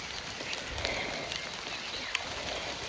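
Rain falls steadily outdoors, a constant broadband hiss with a few sharp drop taps scattered through it.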